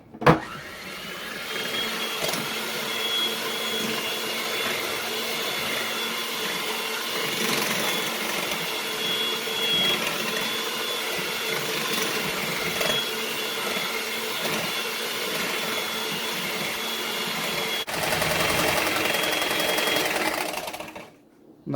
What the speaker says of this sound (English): we keep the mixer running and then slowly add it into the other mixture